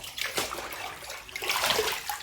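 A baby in a swimming pool is dipped under the water, giving a close, soft wash of splashing and sloshing that swells twice, with a brief gurgle at the end.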